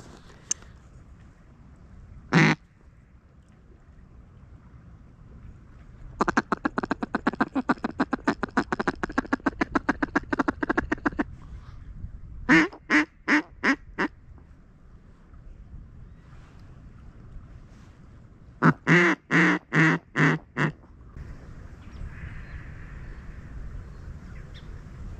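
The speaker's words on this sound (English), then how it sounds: "Here's a big flock of ducks right there." Bursts of rapid, repeated quacking from a large flock of mallard ducks on a river, coming in several clusters over steady wind noise outdoors.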